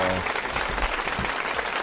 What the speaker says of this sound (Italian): è un applauso un po' formale, non è da stadio